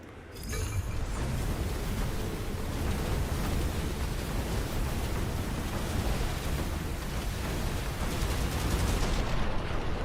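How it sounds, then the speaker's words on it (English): An incendiary repeater fires a dense, unbroken roar of rapid shots in Phantom Brigade, loud and sustained for about ten seconds with no voices over it. "There's the incendiary repeater firing off."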